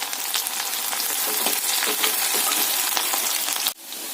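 Onion mixture frying and being stirred in a pan, a loud continuous sizzle with occasional scraping strokes of the spoon, ending in a sudden drop as the stirring stops.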